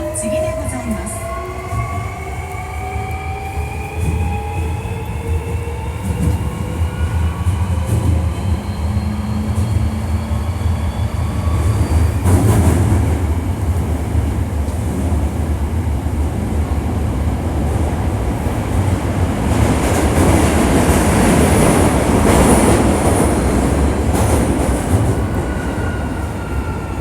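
A Hankyu 1300 series train with an abnormal noise fault, heard from on board as it runs. A loud steady rumble of wheels and motors carries rising and falling motor whine, then harsher metallic squealing and grinding toward the end.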